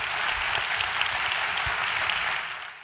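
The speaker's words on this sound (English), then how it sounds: "Give a round of applause to Raul Anaya" An audience claps for a speaker leaving the stage, a steady wash of applause at moderate level with a few low thumps, fading toward the end.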